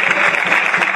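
Football crowd at a CD Cabecense versus Pozoblanco match applauds two substituted players leaving the pitch, a steady, close burst of clapping lasting about a second.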